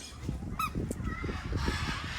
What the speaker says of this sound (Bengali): ওই দেখ লাল রঙের মেকাও পাখি